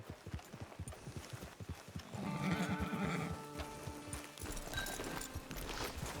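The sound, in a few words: horse neighing and hooves, from a video game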